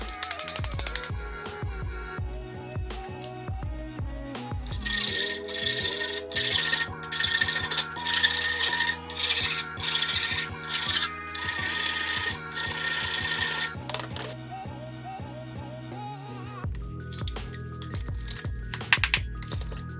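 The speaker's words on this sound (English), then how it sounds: "I'm going to use the hammer and the anvil to sharpen up the corners so that the two pieces fit flush." PVC trunking corners being hammered on an anvil to sharpen them so two pieces fit flush: many close, sharp metallic taps in quick irregular bursts, ringing slightly, with no talking.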